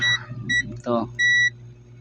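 An electronic buzzer on a Kolin air conditioner circuit board gives three short, shrill beeps in quick succession, the last one longer, with a brief voice between them.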